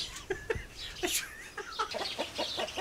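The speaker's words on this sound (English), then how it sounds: "chickens in a tree." Chickens clucking from up in a tree in the Derbyshire Dales, in short, scattered bursts, fairly close, with a couple of sharper squawks among the steady chatter.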